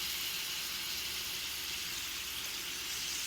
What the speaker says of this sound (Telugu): టమాటోస్ ఫ్రై చేసుకుందాము.